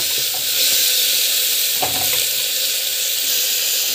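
Onions and tomato sauté in a pan, giving a steady, loud sizzle with occasional stirring scrapes and no voices.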